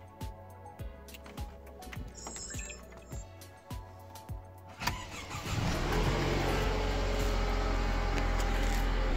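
A Mercedes engine cranks and starts after a stretch of quiet ticking and rhythmic low pulses, then settles into a steady, loud idle rumble that continues to the end.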